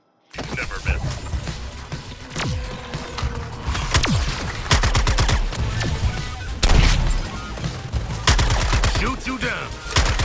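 Gunfire in the Suicide Squad: Kill the Justice League video game, with dense bursts of rapid shots and sharp impacts running through the whole clip, layered with game effects and a busy combat mix.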